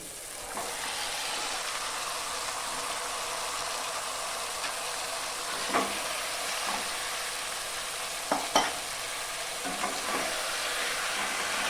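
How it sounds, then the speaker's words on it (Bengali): Mutton stir-fried in spice masala in a wok for a potato mutton curry: a dense, continuous sizzle close by, broken by occasional scraping stirs, with no speech. "মাংসটাকে দিয়ে ভালো করে আমি কষাতে থাকি।"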